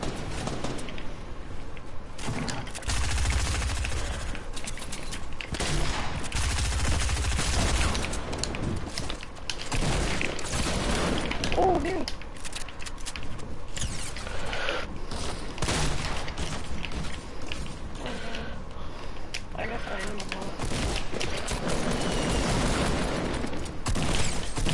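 Gunfire in a multiplayer shooter video game match, a dense, sustained loud barrage of rapid shots and bursts running nearly throughout, with no clear talk over it.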